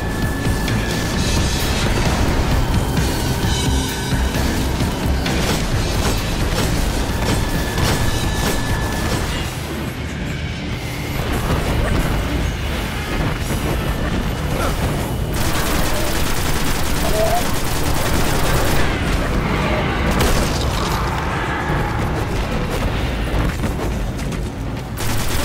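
Gunfire in the sci-fi shooter Destiny on PS4, dense continuous bursts of automatic fire and booms throughout, loud and close, with game voices talking over parts of it.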